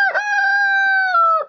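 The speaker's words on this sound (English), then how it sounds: "There's Whitey, one of our two roosters" A rooster, an Ameraucana and Barred Rock cross, gives one long, loud crow close by, clear and unaccompanied, rising at the start and trailing off at the end.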